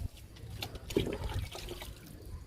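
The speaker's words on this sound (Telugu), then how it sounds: "మునగాకు లిక్విడ్" Moringa leaf liquid is poured from a container onto fruit plants in a garden, making a soft, faint splash and trickle that swells briefly and then tapers off, with no voices.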